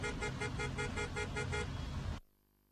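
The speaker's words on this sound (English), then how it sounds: "Some sounds are unpleasant, such as the sound of traffic." Busy road traffic with repeated car horn toots pulsing in a steady rhythm over a dense rumble of engines, loud and continuous before cutting off abruptly into near silence.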